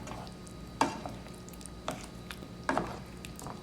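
Sliced potatoes are stirred into a creamy sauce for potatoes au gratin, giving a few faint scrapes and soft wet squelches against the pan at uneven intervals in a quiet kitchen.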